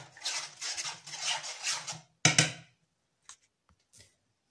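Marinated chicken with spices being stirred in a bowl, a run of soft wet scraping and clinking for about two seconds, then a sharp utensil knock followed by a few faint taps and near silence.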